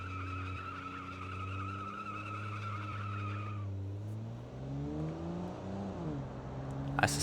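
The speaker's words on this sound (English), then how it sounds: "This one wheel peeling." One car tire spins and squeals during a power brake attempt, a loud sustained screech over a droning engine that shifts pitch and then fades near the end.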